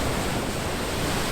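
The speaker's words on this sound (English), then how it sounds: "I love how the water just passes through this gap and then creates little waterfalls" Ocean surf surges through a gap in coastal rocks on Madeira, a loud continuous roar of rushing, churning water with wind buffeting the microphone.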